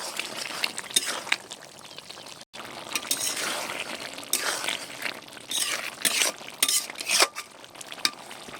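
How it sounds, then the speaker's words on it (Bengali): Crab that was soaked ahead of time goes into a pot of fig and potato curry, giving wet stirring and clattering against the pot, with sharp utensil clinks and scrapes scattered throughout and a brief silent gap early on. "এবারে এর মধ্যে আমি আগে থেকে ভিজে রাখা কাঁকড়াটা দিয়ে দেব"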